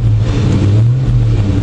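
Kevin's truck engine idles loudly and close by with a steady, deep rumble that is evenly sustained throughout.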